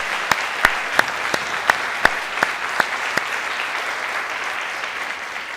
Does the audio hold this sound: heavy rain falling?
no